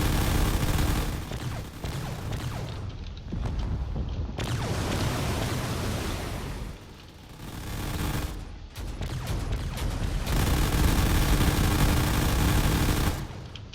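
Turret on a fortress in the Drone Wars video game fires rapidly and without letup, dense rattling bursts of gunfire broken by a few brief pauses and continuing at steady loudness.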